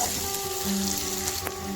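Chopped tomato and salt fry in a pan as they are stirred, a moderate sizzling hiss with faint scraping and clinks throughout, no talking.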